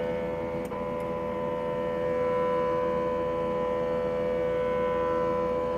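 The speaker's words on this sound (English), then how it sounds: "you can hear the motor turning" Y-stage motor of a K&S 4526 wire bonder initializing on power-up: a steady, close, tonal whine with a constant hum underneath, running without a break and without talk.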